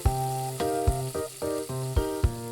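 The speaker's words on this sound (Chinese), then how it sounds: "倒入炸好的小龙虾，开1罐啤酒倒入锅中烧开" Fried crayfish sizzle in a wok as a can of beer is poured in to bring it to a boil, with loud hissing bursts and a few clattering stirs close by.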